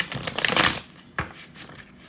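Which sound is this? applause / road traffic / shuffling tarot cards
shuffling tarot cards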